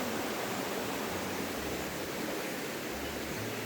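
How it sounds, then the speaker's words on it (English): Steady, broadband rushing of flowing water, constant and full throughout, a river in the Western Ghats forest running close by with no talk. "Hope you can hear the sound of the river flowing side by."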